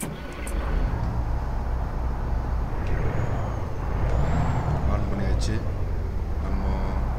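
Truck engine in American Truck Simulator, a steady low diesel rumble with a brief air-brake hiss, heard under someone talking.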